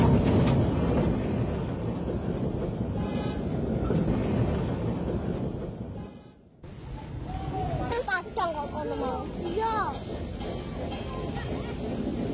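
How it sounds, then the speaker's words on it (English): A Surabaya steam tram, engine and coaches from around the turn of the century, rumbles along with dense rolling rail noise under narration, then the scene shifts to a quieter track passage with squealing wheels. "engine and coaches together formed a perfect period train from the turn of the century"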